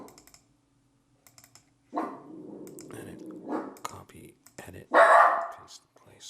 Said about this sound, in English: if you heard my dog barking there